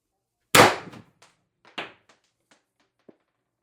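A sharp, loud crack from an X-68 Storm Trooper air rifle charged to about 900 PSI, with a short decaying tail and a few faint clicks afterward.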